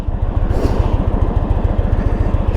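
A 2022 Indian Super Chief motorcycle's V-twin engine rumbles close and loud with a steady, rapid low pulsing throb, alone without talk.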